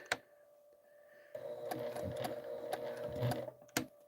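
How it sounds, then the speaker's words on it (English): A home sewing machine stitches a quilt corner, running a few forward stitches and then backstitching, a steady mechanical whir with a constant motor hum and a couple of sharp clicks. "we're going to go forward 2 stitches, 1, 2, maybe 3, and then I'm going to back stitch"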